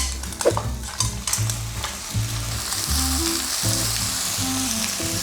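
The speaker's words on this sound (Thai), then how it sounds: "การที่เราผัดตัวหอยแมงพู้เข้าไประหว่างเนี้ยครับตัวน้ำหอยเนี่ยเขาจะออกมา" Mussels on the half shell stir-frying with garlic in a pan for a tomato seafood sauce: a bright, steady sizzle close up, with shells clacking and knocking in uneven bursts as they are tossed, no talk.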